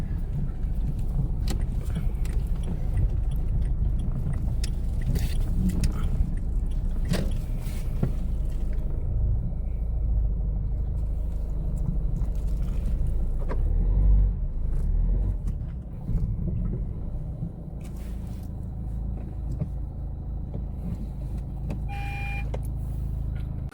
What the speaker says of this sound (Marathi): आता समोर पण गाडी आलेली आहे.